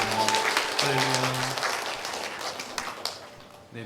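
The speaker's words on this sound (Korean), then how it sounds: "이곳에 올려주신 하나님께 영광의 박수를 드리겠습니다." A church congregation applauds in glory to God after a hymn, a dense wash of clapping that swells and then slowly fades over a few seconds while a voice lingers beneath.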